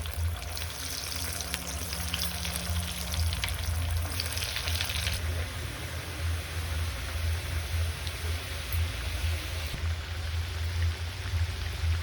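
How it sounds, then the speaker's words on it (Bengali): Breadcrumb-coated vegetable chops deep-frying in hot oil, a steady close sizzle and crackle that stays dense and even throughout, with no voices. "এবার এইগুলো আমি ভেজে নেব তেল ভালোভাবে গরম হয়ে গিয়েছে এর মধ্যে একটা একটা করে দিয়ে দেবো"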